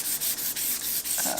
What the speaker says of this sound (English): I'd rather sand just one long strip rather than sanding, I don't even know how many strips.